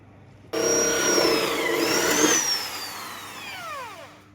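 A power tool whines up sharply and cuts through the panel of a car music system, opening speaker holes in one loud sustained run whose pitch sags and then winds down, with no talking.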